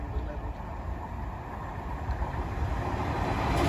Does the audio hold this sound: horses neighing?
no